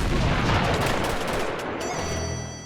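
Dense, rapid gunfire from a mounted gun rattles loudly in a firefight in Uncharted 2, a sustained barrage that thins out and fades toward the end.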